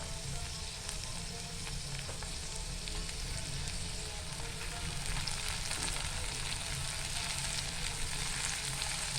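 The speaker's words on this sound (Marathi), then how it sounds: "आता आपण कांदा परतून झालेला आहे आपण त्यात टाकतो टोमॅटो" Chopped tomatoes go into sautéed onions in a pan for egg rice, and a steady, close sizzle of frying runs unbroken throughout with faint stirring scrapes and no talking.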